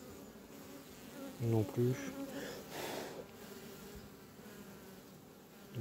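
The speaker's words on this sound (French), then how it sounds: "on va enlever un peu les abeilles de là, dessous, pour éviter de les écraser sous le cadre" Honeybees buzzing steadily around an open hive as a beekeeper works the frames, with a few short spoken words in French and some louder handling bumps near the middle.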